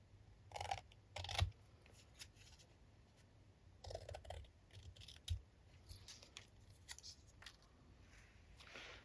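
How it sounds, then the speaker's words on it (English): Scissors snipping through paper while trimming a handmade paperclip pocket and tag craft, a few separate bursts of crisp snips with short pauses between them, close and fairly quiet. "let's cut this off."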